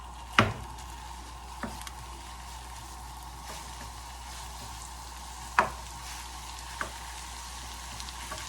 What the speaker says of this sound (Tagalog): So we are going to brown our beef mince.